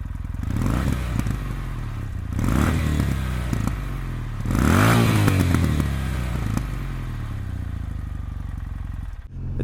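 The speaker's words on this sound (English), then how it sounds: "we have the peashooter exhaust. In my opinion, it looks and it sounds amazing." Kawasaki W800 motorcycle engine with a peashooter exhaust, revved three times in deep, throaty swells over a steady loping idle, close and loud, then cutting off at the end.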